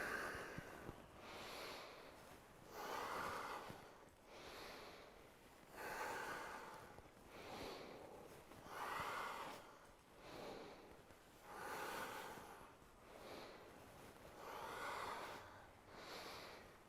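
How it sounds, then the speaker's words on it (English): Slow, deep yoga breathing with a mantra repeated silently, each long inhale and exhale audible up close in a steady rhythm of about six full breaths, soft and unhurried. "you can use the mantra Sat Nam silently as you inhale and exhale"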